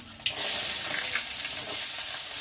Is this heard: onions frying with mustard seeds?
yes